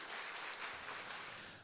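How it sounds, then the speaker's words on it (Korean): Quiet, distant applause from a late-night church prayer meeting congregation encouraging young people, a brief wash of clapping that fades out. "우리 청년들에게 격려의 박수 부탁드립니다."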